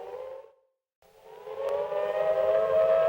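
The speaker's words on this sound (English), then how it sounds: "The sirens are wailing outside." Civil defense air raid siren wailing, breaking off briefly before rising again into a steady, loud, sustained tone.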